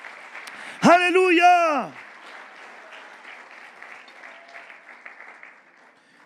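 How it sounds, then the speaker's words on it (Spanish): Loud church congregation applause during a Spanish-language evening vigil service, a shouted voice rising over it at first, then steady clapping and crowd noise continuing at a lower level. "Den un fuerte aplauso a Jesucristo por esa verdad."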